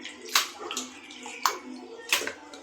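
Country chicken being washed in water in a large idli pot, faint close splashes and sloshing in three distinct bursts with quieter water movement between them.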